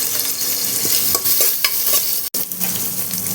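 Coconut pieces fry in a little coconut oil in a pressure cooker, giving a close, continuous loud sizzle with light stirring scrapes and a brief sharp cutout partway through.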